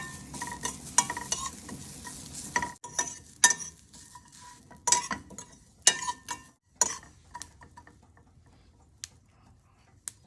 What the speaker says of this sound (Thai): ต้องคั่วสีขาวก่อนนะคะ คั่วให้แห้งนะคะ